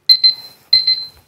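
A camera self-timer beeps in two quick bursts of sharp, high electronic chirps, loud and close, with a short silent gap between the bursts and no talking over them.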